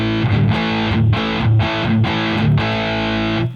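An electric guitar played through a Musiclily Pro true-bypass distortion pedal with the gain turned up, sounding several loud, sustained distorted chords in a steady rhythm, each ringing before the next, alone without talk.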